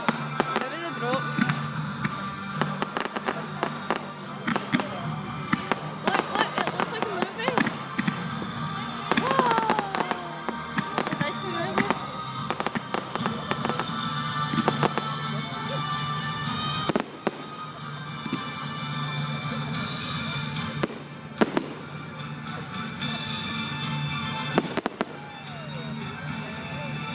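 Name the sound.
fireworks going off with booms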